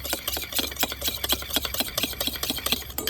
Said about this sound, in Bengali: হাফ চামচ অ্যালোভেরা জেলটাকে ভালো করে এইভাবে মিশিয়ে নেব